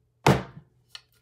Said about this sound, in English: I'm just literally hitting it on the desk on its side, on all four sides